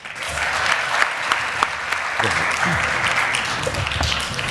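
Sustained applause from a crowd at a CUNY Citizenship Now event honoring an immigrant rights advocate, steady and dense with a few sharper claps standing out and faint voices mixed in underneath.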